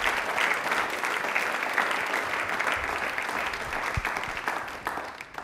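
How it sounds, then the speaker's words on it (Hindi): Strong, steady applause from a studio audience on a Rajasthan television quiz show, a dense even wash of clapping holding its level for several seconds with no talk over it. "एक बार जोरदार तालियां हो जाए डॉक्टर सौम्यता मैम के लिए, तालियां भी एक बार जोरदार हो जाएं।"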